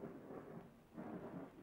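Low rolling thunder rumbles in two swells over a steady hiss of rain, fairly quiet and distant.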